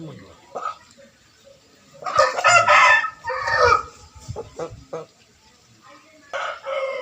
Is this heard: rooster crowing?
yes